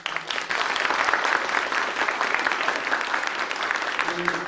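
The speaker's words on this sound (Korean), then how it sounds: "박수 한번 부탁드리겠습니다" Audience applause rises sharply after a brief pause and continues as dense, lively clapping for several seconds, with a faint voice near the end.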